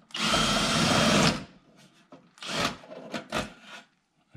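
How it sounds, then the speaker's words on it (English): Pneumatic impact gun running out fasteners on a C7 Corvette spoiler, one long loud burst followed by several shorter rattling bursts close by, with no talking. "now let me use a gun and I'll run them things out of there"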